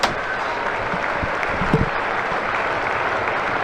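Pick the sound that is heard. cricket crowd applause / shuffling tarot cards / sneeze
cricket crowd applause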